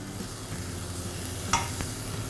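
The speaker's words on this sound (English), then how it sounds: "what I'm doing first is that I'm going to saute some green onions" Green onions sautéing in about two tablespoons of olive oil with red pepper hiss with a soft, even sizzle, broken once by a brief utensil clink near the middle, with no speech.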